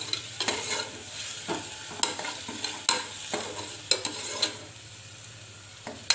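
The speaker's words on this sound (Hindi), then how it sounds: "ये देखिए ये हमारा पेस्ट भुन रहा है, इसे हमें हल्का गुलाबी करना है" Chole masala paste fries in a pan under a soft sizzle, with repeated scraping strokes of a spoon stirring it at an uneven rhythm, close up and with no voices.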